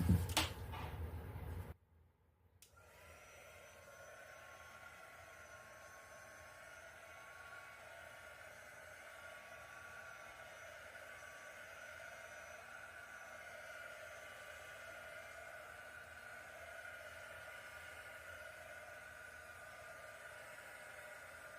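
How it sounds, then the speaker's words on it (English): A heat gun blows over a wet acrylic pour painting, a steady, even whooshing hiss that starts after a brief clatter and runs on unbroken, fairly quiet and close, with no one speaking. "I'm gonna hit this with a heat gun."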